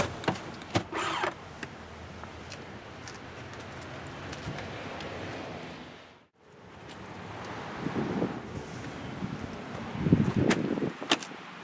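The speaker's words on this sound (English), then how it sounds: "Both trucks can power fold the second and third rows" The power-folding second and third row seats of a 2018 Lincoln Navigator or Cadillac Escalade SUV give a steady electric motor whir with a few clicks and thumps, pausing briefly midway, then running again with louder clunks near the end.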